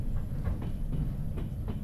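A train rolling on rails in a Trans-Siberian railway video game: a steady low rumble with soft, evenly spaced clicks of wheels over rail joints.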